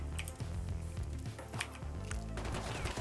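Gunshots in the survival game Rust, a rapid string of sharp reports repeating over a few seconds, fairly quiet against a steady game background.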